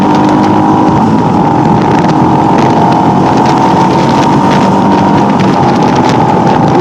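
A motorcycle ridden along a road on the way to a college, its engine a loud, steady drone throughout with constant wind rush and no pauses.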